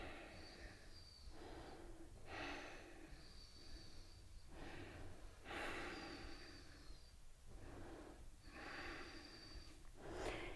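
Repeated deep breaths and exhales during a morning yoga stretch, several broad airy bursts in a slow rhythm, close and fairly soft, with no talking.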